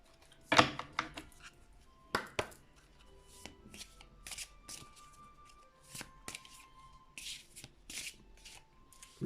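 Oracle cards are shuffled by hand, producing quick papery riffles and soft slaps in irregular bursts, close and fairly quiet against a silent room.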